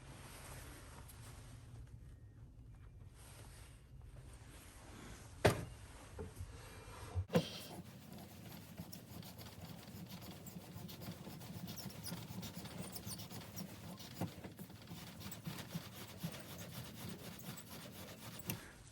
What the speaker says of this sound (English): now I'm going to be using my die holder with my die in here for the 14mm triple start thread